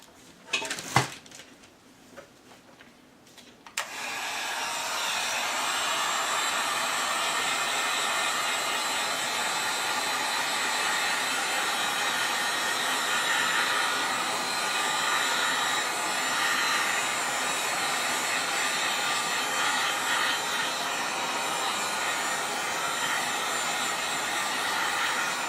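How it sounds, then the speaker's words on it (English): A heat gun blows hot air over freshly shaken metallic paints, a steady, loud broadband whoosh that starts after a few seconds of brief clatter and then runs unbroken to the end. "Get my heat gun out of here."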